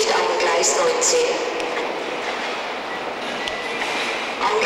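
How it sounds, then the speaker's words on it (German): A train departs from a German railway station platform: continuous broad rumble and rolling rail noise, fairly loud and steady throughout, with faint clatter on top and no clear speech. "Bitte einsteigen, die Türen schließen. Der Zug fährt ab."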